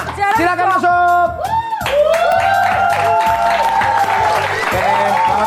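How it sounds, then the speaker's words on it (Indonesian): Studio audience applause on an Indonesian comedy TV show, clapping and some cheering under loud music with sustained tones, continuous and full for several seconds. "Oke, tepuk tangan"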